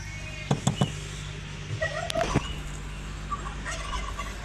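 Turkeys gobbling in a farmyard at feeding time: a few sharp, rattling gobble bursts near the start and middle over steady background noise, with fainter bird calls scattered later.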